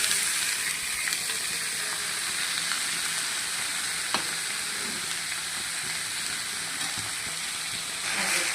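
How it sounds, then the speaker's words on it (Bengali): Bottle gourd with cumin, dried chilli and bay leaf fries in hot oil, giving a steady, close, continuous sizzle with a few faint stirring taps and no talking. "এবার লাউটা দিয়ে দেবো, জিরা দিয়ে দিচ্ছি, শুকনো লঙ্কা, তেজপাতা"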